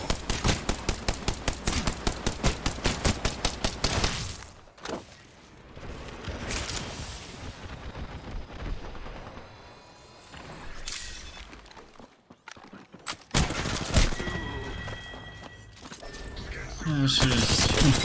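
Gunfire in Apex Legends, a rapid machine-gun burst of evenly spaced shots followed by scattered loud shots, shattering impacts and more bursts, with people talking over the fight.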